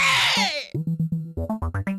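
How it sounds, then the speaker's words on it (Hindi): Screaming and shouting from a Chhattisgarhi comedy film: a sustained high scream, then a burst of short, rhythmic, loud vocal cries in quick succession. "मैं हाँ अभी अभी कोनो के चीख पुकार सुने रहे।"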